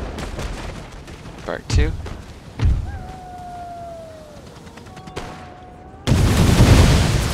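Grenades bursting during a siege battle in Empire: Total War: two heavy booms about a second apart over scattered distant gunfire, then a loud sustained roar of battle; a voice speaks briefly.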